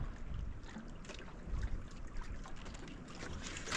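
Strong gusty wind of the northeast monsoon roars and buffets across the microphone at a seaside spot with big waves, a dense rushing noise with water sloshing beneath, no voices.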